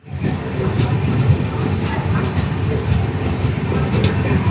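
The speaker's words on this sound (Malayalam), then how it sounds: "അങ്ങനെ നമ്മുടെ ട്രെയിൻ കായംകുളം ജംഗ്ഷൻ റെയിൽവേ സ്റ്റേഷനിൽ നിന്നും വീണ്ടും പുറപ്പെട്ടിരിക്കുവാണ്" A passenger train pulls out of Kayamkulam Junction station with a steady, loud low rumble and faint wheel clatter that builds evenly.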